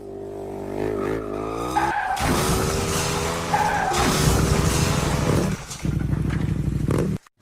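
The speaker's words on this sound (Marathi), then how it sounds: "लय जोरात गाडी पळत होते" A car driven fast gives off loud engine whine and squealing, skidding tires in several bursts, close and continuous, ending abruptly.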